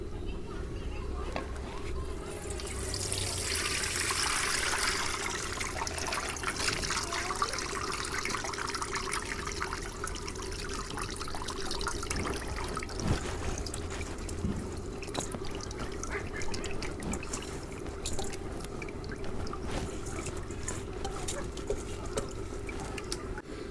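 Soaked rice for village-style Bangladeshi chicken biryani being drained, with a steady watery trickle and splash running close by for most of the time over a constant low hum, with a brief louder gush early on.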